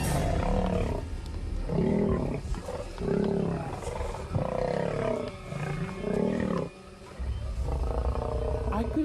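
Lions fight an intruding male, giving deep, repeated roars and snarling growls in loud overlapping bursts, close and raw, for several seconds.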